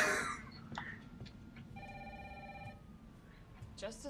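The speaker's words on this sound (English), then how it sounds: "Answer the phone! This is a long ringing phone." A telephone rings in the video game Resident Evil 3, a bright electronic trill lasting about a second that sits over a dull background hum.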